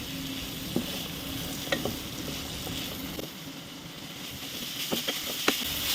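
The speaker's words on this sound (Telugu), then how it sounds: "వీటిని చక్కగా ఆయిల్లో ఫ్రై చేసుకుందాం." Sliced onions and tomatoes frying in hot oil for a dried-fish curry, a soft steady sizzle broken by occasional scrapes and clicks of a stirring spoon, fairly quiet.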